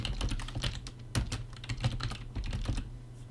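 Rapid clicking of fingers typing a captcha on a computer keyboard while setting up Ethereum mining pool verification, with close, steady keystrokes and a few louder taps.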